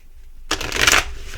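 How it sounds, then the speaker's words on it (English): A tarot deck gets one quick riffle shuffle close by, a short burst of crisp, rapid card flutter lasting about half a second in an otherwise quiet room. "We're going to shuffle the deck,"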